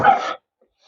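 A dog gives a single loud, close bark that cuts off sharply into silence.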